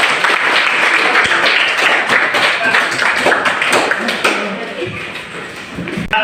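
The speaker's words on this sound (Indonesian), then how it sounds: "Kita beri aplaus untuk kelompok yang satu" A room of people, likely university teacher-training students, gives dense, steady applause for a group, sustained and loud throughout, tapering slightly at the end.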